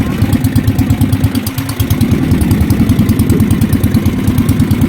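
Boat engine running steadily at close range with a pulsing idle rhythm on a river, loud and continuous after starting, with brief voices in the background.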